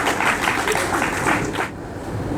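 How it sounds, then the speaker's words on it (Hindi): A crowd at a Hindi poetry gathering claps for a couple of seconds, a dense, fairly close burst of applause that cuts off abruptly, leaving low room noise. "मैं आपको एक बार ताली जो है हमारे भाई साहब के लिए आप लोग दीजिए"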